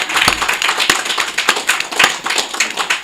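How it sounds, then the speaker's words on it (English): A small group claps during a talk-show style empowerment program, with sharp individual hand claps in an uneven rhythm, close and moderately loud, and no speech over them. "Can we get a round of applause for that?"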